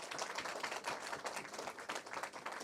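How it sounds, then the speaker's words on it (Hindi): Audience applause at a Hindi hasya kavi sammelan poetry recital: dense, fairly distant clapping from a crowd, continuous and steady throughout. "एक बार जोरदार तालियां बजाइए।"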